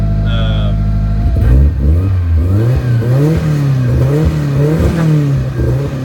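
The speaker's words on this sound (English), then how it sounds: "I don't know if you heard it kind of get into the rev limiter." A forged turbocharged engine in a Nissan S13 revs hard in repeated rapid bursts, bouncing off the rev limiter with a choppy stuttering rhythm, loud and close.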